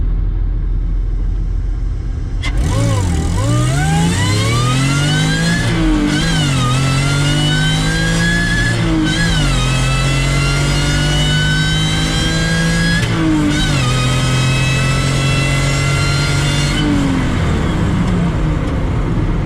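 A supercharged V6 Toyota MR2 launches down a drag strip, its engine loud and close, revving up through several rising gear pulls with brief dips at each shift across the full run.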